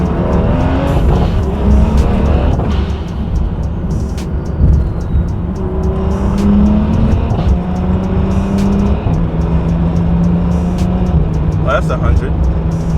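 A BMW 435i engine revs hard with traction control off and climbs through the gears, loud and close from inside the cabin, with a voice talking over it.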